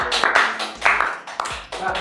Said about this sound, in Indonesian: Tepuk tangan dong buat Bobby ya.